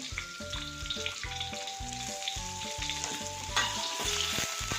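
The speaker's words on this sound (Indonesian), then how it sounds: "masukkan bumbu, masukkan bawang yang sudah dirajang" Spice paste and chopped shallots sautéed in hot oil for an Acehnese fish curry, with a steady bright sizzle under repeated rhythmic stirring strokes and scrapes of a utensil against the pan, close and continuous; nobody speaks.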